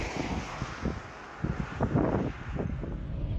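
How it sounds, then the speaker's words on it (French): Strong wind buffets the microphone during a long-distance bicycle ride on a descent, producing uneven low gusty rumbles that swell and fade, loud and close, with no voices. "Il y avait pas mal de vent"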